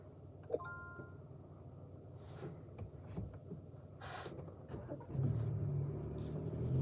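A car's automatic start-stop system brings the engine back on: a quiet cabin with a brief chime early on, then a low engine rumble swells in and holds steady near the end.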